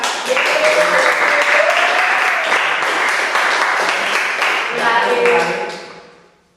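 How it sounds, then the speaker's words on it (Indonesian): A classroom of students applauds the best group, lively continuous clapping with some voices mixed in before the sound fades away at the end. "Oke, berikan tepuk tangan."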